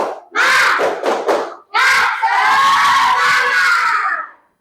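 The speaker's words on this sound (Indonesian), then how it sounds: "Tepuk semangat dulu." Class of schoolchildren doing a rhythmic spirit clap chant, loud group shouting in bursts with clapped beats, then a sustained unison chanted cry from the whole class.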